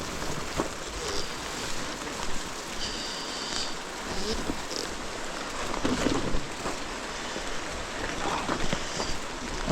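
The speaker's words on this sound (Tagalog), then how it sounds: "Naabot na kami ng ulan." Steady rain falling around cyclists bikepacking on Mt. K2 in the Philippines at dusk near a campsite, a dense even hiss of drops with faint wind noise and no distinct voices.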